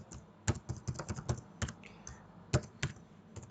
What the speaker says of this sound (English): So we're going to type in our name,